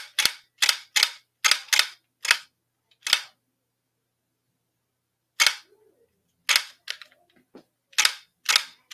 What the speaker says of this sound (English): I'm shooting off screen to reload.